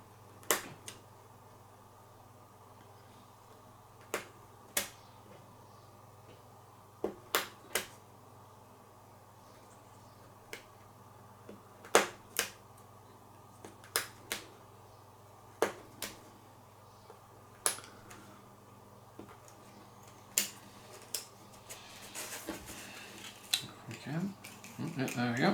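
Small OO gauge cattle dock kit parts are snipped from their sprue with sharp, isolated clicks spaced irregularly over quiet room tone, becoming denser rustling and handling noise toward the end.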